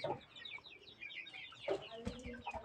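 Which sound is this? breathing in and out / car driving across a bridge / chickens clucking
chickens clucking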